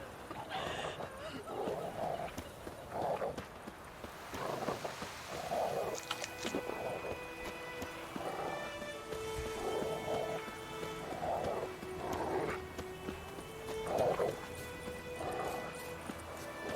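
Horse hooves clip-clop in The Witcher 3 game, a steady rhythmic trot sounding at mid distance alongside rain, with a few tonal musical notes over the top.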